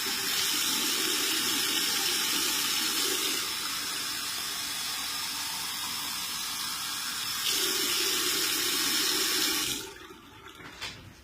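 Warm water runs steadily from a tap in a home, a continuous loud gush lasting about ten seconds before it shuts off and fades to quiet.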